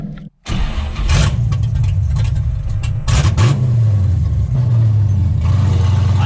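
LS-swapped Chevy Luv with a TKX 5-speed, its V8 rumbling loud and close from inside the cab while driving, with revs rising and falling through gear changes after a brief drop near the start.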